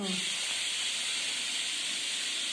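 A pressure cooker on the stove, cooking fenugreek dal huli, lets off a loud, continuous high hiss of steam close by, holding steady and unbroken throughout.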